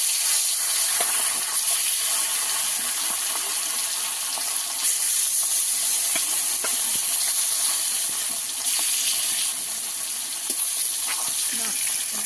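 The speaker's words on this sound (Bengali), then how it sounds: "তেল গরম হয়ে গেছে, দিয়ে দেবো মাছ" A 900-gram pomfret fish sizzles in hot oil, making a dense, continuous hiss and spitting crackle right at the pan that holds steady from start to end.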